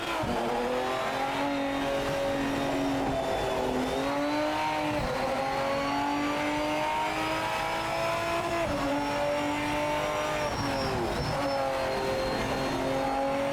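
Race car engine in the Project Motor Racing video game, a steady, loud, close drone that rises and dips with throttle and shifts, running without a break and with no talk.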